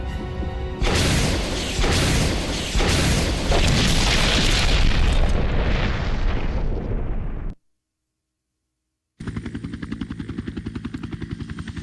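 A rocket launcher blast in the Resident Evil (2002) remake booms loud and close with a long rumbling roar that fades into a few seconds of silence, before a low pulsing drone returns.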